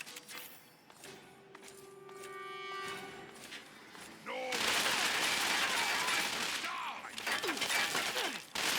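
Gunfire in the video game Fallout 3: quieter scattered shots and tones at first, then a loud, sustained burst of rapid fire and crashing impacts, with a voice talking early on.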